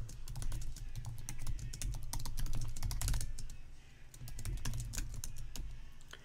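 Steady, rapid typing on a computer keyboard, close and clear, with quick clicking keystrokes running throughout and no voices.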